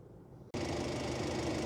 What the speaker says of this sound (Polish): Po włączeniu silnika pozwalam mu popracować około 2-3 minuty, zanim rozłączę kable.